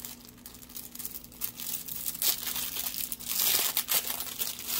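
Plastic crinkling and rustling up close as a bag is handled and pulled open, with louder crackly bursts toward the end and no talking.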